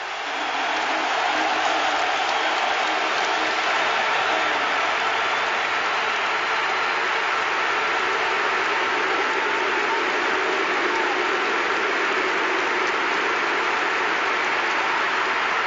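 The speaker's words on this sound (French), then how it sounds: "Les applaudissements, les flashs qui crépitent" A stadium crowd gives a long, sustained ovation at a Real Madrid versus Villarreal La Liga match, a steady wash of applause and cheering that holds at full level throughout.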